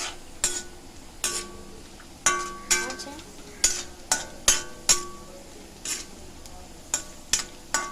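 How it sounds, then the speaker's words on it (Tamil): Cashews frying in a pan for payasam, with a spoon repeatedly scraping and clinking against the metal in a steady rhythm over a soft, continuous sizzle. "முந்திரியை நம்ம வந்து ஃபர்ஸ்ட் வறுத்து எடுத்துடலாம்"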